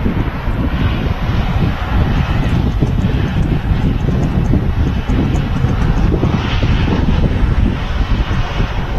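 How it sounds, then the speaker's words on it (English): Continuous loud roar of Jet2 Boeing 757 jet airliners at Manchester Airport, steady broadband engine noise with wind buffeting on the microphone, no clear speech. "there's 2 Jet 2 757s without winglets with the .com scheme"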